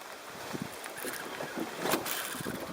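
A boat out on open water during a big-fish catch, its hull and engine giving a steady washing rumble with wind buffeting the microphone and a brief louder swell near the end, no voices present.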